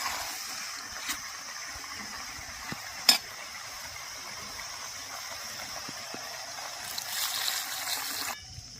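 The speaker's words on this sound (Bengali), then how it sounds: "এবার পরিমাণ মতো জল দিয়ে দেবো" Water is poured into a simmering curry of fried potato, eggplant, prawns and ivy gourd leaves, giving a soft sizzling hiss with a few sharp clicks, then a brief louder gush near the end.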